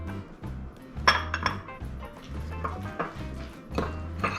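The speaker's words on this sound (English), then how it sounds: "Then we're going to give all of this a stir." Ingredients stirred in a bowl with a utensil, giving repeated clinks and scrapes against the sides in an uneven rhythm, close and clear with no talking.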